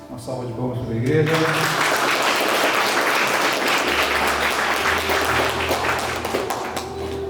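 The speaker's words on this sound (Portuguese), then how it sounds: "Uma salva de palmas para a igreja." A church audience bursts into loud, dense, sustained applause at a Baptist theological seminary certificate ceremony, with voices and a low tone running underneath throughout.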